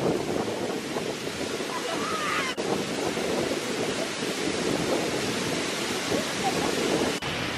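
Steady, dense rush of falling water from a waterfall in the northern Philippines roaring close by, constant and loud throughout with a couple of brief dips.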